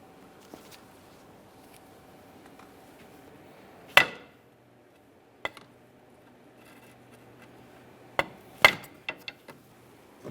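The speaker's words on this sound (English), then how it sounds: "rest a pry bar directly against it and then tap on the pry bar with a hammer, breaking it free" A hammer taps a pry bar to break a clamp free from the steering rack of a 2013-2020 Ford Fusion. Sharp metallic knocks ring out close by, spread apart, with a few quick taps clustered near the end over a quiet background.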